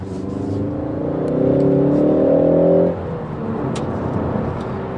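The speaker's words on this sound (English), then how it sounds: "It just makes a really chirpy noise, this car." Engine of a 2019 Ford Focus ST hot hatch, rated at 273 horsepower, revving and pulling harder while driving, its tone climbing and swelling for a couple of seconds before easing back to a steady cruise. The sound is close, continuous and alone, with no talk.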